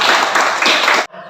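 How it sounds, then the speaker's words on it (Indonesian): Classroom applause during a lesson on preparing a body for burial, a dense burst of many hands clapping close and loud for about a second before cutting off abruptly. "Tepuk tangan dong."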